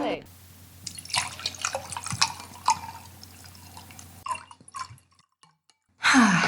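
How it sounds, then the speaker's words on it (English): Spicy South African Shiraz poured into a glass, a close, trickling liquid pour with dripping that runs for several seconds, then tapers off into brief splashes and quiet. "The sound of spicy South African Shiraz being poured into a glass."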